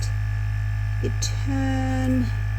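A steady electrical hum from a small Let's Resin bubble remover machine, droning continuously with a few faint clicks and a brief higher tone partway through.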